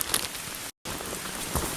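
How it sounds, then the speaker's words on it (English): Rain falls steadily on a wet hiking trail along the Appalachian Trail, a dense close patter of drops with one brief cut to silence midway. "Strangely enough, I'm not all that upset about the rain."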